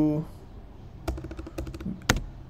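Keys clatter on a computer keyboard in quick, uneven bursts of clicks, with a sharper cluster near the end; a voice speaks briefly just before the typing starts.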